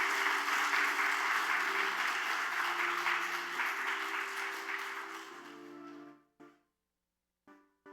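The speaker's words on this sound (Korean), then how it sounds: "큰 박수로 축복해 주시기 바랍니다." A Korean church congregation applauds a scholarship recipient during a Sunday service, steady clapping with a sustained organ-like tone beneath, fading out after about six seconds into near silence with a few brief sounds.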